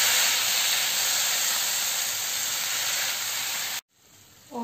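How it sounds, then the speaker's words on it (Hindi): Moth beans (matki) hit spices in a hot pan over low flame, releasing a loud, steady steamy hiss that cuts off abruptly near the end, leaving quieter background. "अब उसमें डालेंगे मटकी और सभी चीजों को अच्छे से मिक्स करना है"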